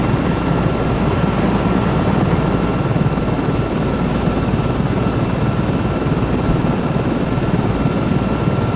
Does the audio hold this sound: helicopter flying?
yes